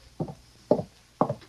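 Three firm knocks on a wooden door in an old-time radio drama, spaced about half a second apart, close and clear with no voices over them.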